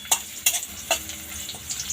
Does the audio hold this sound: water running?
no